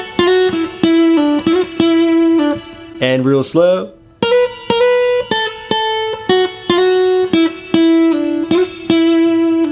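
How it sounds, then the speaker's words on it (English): An electric guitar plays a simple descending minor pentatonic blues lick, clean plucked notes in a slow stepping line with a brief bend in the middle, loud and close, and a voice speaks briefly. "It's a very simple descending lick."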